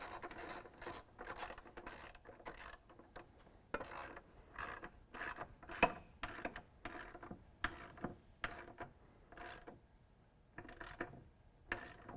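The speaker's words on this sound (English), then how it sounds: "we can use a 13mm to tighten these bolts" A 13mm ratchet tightens running board bolts on a 2015 Chevy Silverado, giving quiet, rapid clicking in repeated short bursts up close.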